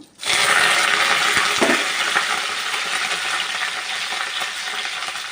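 Tempering spices such as fennel seeds and dried red chillies hit hot oil with a sudden loud sizzle that keeps crackling steadily and gradually eases slightly, close up and without talk.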